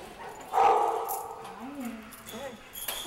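Dogs in training at a kennel housing about thirty dogs give a loud burst of barking and yipping near the start, then quieter whines and yelps follow while a person talks.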